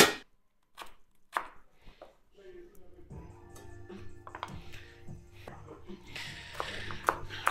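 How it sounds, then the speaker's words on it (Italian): A knife chops carrots rapidly on a cutting board, sharp repeated knocks close up, with faint kitchen background hum. "Ste carote, ci manca l'ultima a tagliare."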